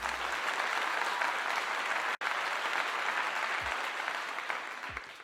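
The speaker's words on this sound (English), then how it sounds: "we need to definitely clap that up" Sustained crowd applause, a dense even wash of many hands clapping that holds at a moderate level and briefly cuts out once before resuming.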